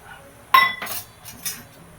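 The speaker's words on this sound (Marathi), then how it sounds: "ह्याला फिरवूया चांगलं असं फिरवून घ्यायचं" Spring onion, green chilli and moong dal stirred in a metal pan, a sharp clink of the spoon against the pan followed by a couple of softer scraping strokes, close and brief.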